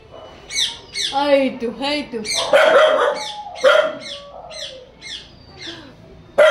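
Birds call repeatedly near a family house, bright chirping and squawking phrases close by, mixed with speech and what may be a dog, fairly loud throughout.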